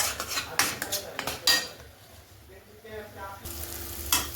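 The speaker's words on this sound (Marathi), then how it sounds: "ह्या वाटणाला जोपर्यंत छान असं तेल सुटत नाही तोपर्यंत परतून घ्यायचं आहे कमी गॅसवरती" Ground masala paste fries on low gas with a soft sizzle broken by sharp clinks and scrapes of a spoon against the pan, a quieter stretch in the middle before the stirring picks up again.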